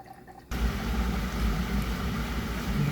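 A Bosch dishwasher fills through its inlet valve, starting with a sudden onset of steady rushing water and a low rumble that continues evenly at close range.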